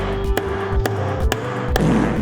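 A hammer strikes a center punch on a steel angle in four sharp, evenly spaced metallic taps, loud and close, over a low steady hum.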